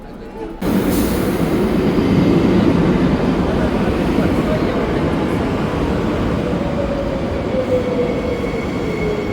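Train at the Bordeaux station, a loud steady rumble of rolling wagons that starts abruptly, with a faint rising squeal of wheels on the rails, a voice speaking over it.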